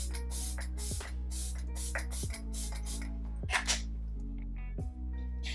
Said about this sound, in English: I'm gonna spray my skin one more time before going into my moisturizer.